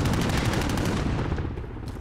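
Loud, close automatic gunfire in Call of Duty: Modern Warfare rattles off in rapid continuous bursts, thinning slightly toward the end.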